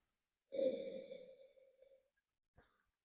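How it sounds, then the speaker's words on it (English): One long, drawn-in nasal sniff of a beer glass held close to the nose, starting sharply and fading over about one and a half seconds, followed by a short faint sniff. "now I'm going to go in and take a really long sniff"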